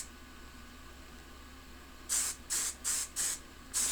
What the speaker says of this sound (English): you just take your hairspray and